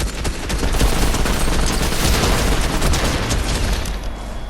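Dense, continuous automatic gunfire from Fortnite, loud and sustained as a rapid volley of shots with booming impacts throughout, no speech heard.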